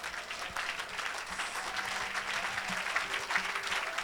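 Church congregation at an evangelistic service clapping loudly and continuously, a dense steady applause from a large crowd with a faint murmur of voices beneath it.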